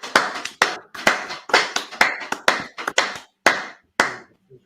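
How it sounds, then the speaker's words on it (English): A small class audience claps in distinct, sharp bursts, a dozen or so separate claps and short ragged runs close by in a quiet room, tapering off to silence at the end. "clap it up first"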